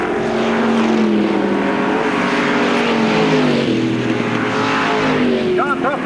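Race cars howl around a dirt oval at a county raceway, loud engine whines that rise and fall in pitch as they run bumper to bumper, with an announcer's voice heard over them.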